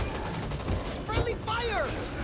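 Gunfire from the co-op zombie shooter Back 4 Blood, a burst of rapid shots with mechanical clatter and warbling in-game effects, close and busy, with a player voice over the mix.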